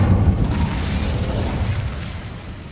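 The Incendio fire spell goes off in Hogwarts Legacy as a loud, rumbling whoosh of flame that starts at full strength and slowly fades.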